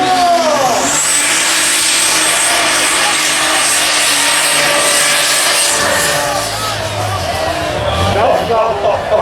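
A pulling tractor in the superstock class roars through a run at a tractor pulling event in Füchtorf, a loud sustained engine howl that rises in pitch, then drops and surges again, with a voice talking over it.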